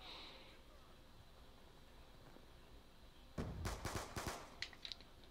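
TAC 40 pistol gunfire in Black Ops 2: after a quiet stretch of faint background noise, a short rapid cluster of sharp shots rings out near the end, fairly loud and close.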